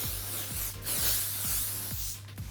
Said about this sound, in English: Finish off with a bit of hairspray and you're good to go.